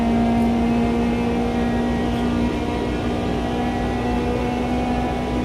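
A race car engine in the Automobilista 2 sim-racing game, heard as a loud, steady high drone held near the top of its revs, with no clear rise or fall, alone with no talk.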